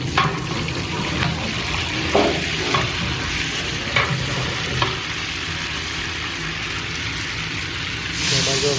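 Curry leaves, mustard seeds, coriander and cumin sizzle in hot oil with a constant crackle and a few clinks of stirring.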